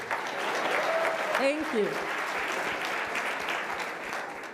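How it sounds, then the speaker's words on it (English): Audience applause fills the room, steady and moderately loud, with a brief spoken thanks over it partway through. "So, yes, you can clap."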